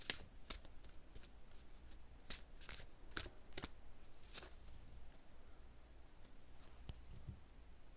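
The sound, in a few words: tarot cards being shuffled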